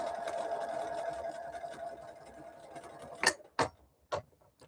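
A sewing machine at a small sewing table whirs steadily while piecing border units for a Bonnie Hunter mystery quilt, then stops, leaving a few sharp mechanical clicks and ticks close by.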